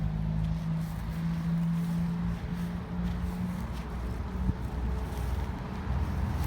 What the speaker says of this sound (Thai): เป็นลมกระโชกครับ